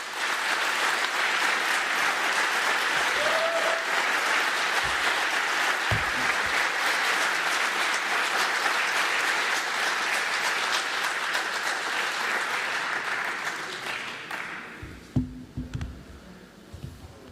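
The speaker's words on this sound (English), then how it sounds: "extra round of applause" Conference audience applauding a speaker at the end of a talk, long and dense, dying away near the end into scattered claps and small room noises.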